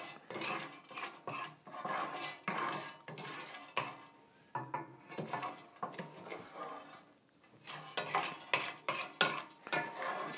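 Cashews toasting in a hot pan are stirred with a utensil, giving steady scraping and clinking strokes in an irregular rhythm, close and fairly loud, with a brief lull midway and no talk.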